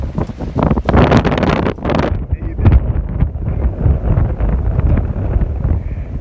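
Strong gusty wind blasting across an open outdoor microphone, a steady roar with surging gusts and buffeting throughout, where an RC model jet is being flown.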